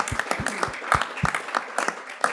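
Audience applause after a talk at a privacy law conference session, a short burst of scattered, rhythmic hand claps in a classroom-sized room, fairly close and without voices.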